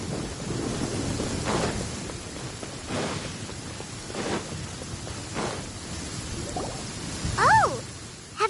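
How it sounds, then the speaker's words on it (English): A thunderstorm in the video game Genshin Impact: low rolling rumbles of thunder over steady rain and wind, several muffled booms spread across the clip, with a short tonal game effect near the end. "Where is the storm headed?"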